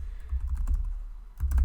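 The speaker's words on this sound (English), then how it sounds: "all you need to do is just go type in your domain.com" Someone types on a computer keyboard, a steady run of close, soft key clicks with a brief pause before a final quick burst.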